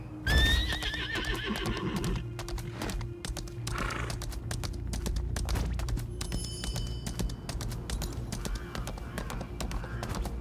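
A horse in the game Lost Ark whinnies loudly at the start, then steady hoofbeats clip-clop at a fast, even gallop over a continuous low background hum.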